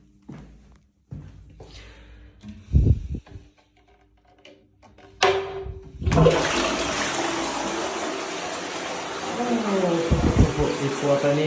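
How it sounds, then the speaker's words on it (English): Toilet flushing in a hotel room bathroom in Rapallo, Italy, a loud rushing, gurgling flush that starts partway through and runs to the end, preceded by thuds and a short voice. "Prepare for the toilet."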